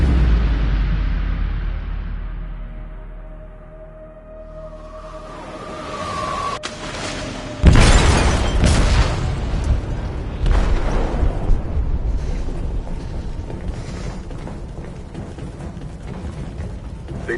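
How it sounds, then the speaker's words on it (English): An explosive goes off in a ship's hold in Detroit: Become Human. A quiet, fading rumble gives way to one sudden loud detonation, followed by a long, roaring, crackling aftermath with scattered bangs. "detonated an explosive in the hold"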